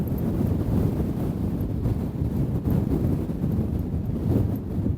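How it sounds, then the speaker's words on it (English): Strong, gusty wind roars loud and continuous on the summit of High Seat fell in winter, buffeting the microphone with no voices. "Oh, it is blowing a hoolie up here."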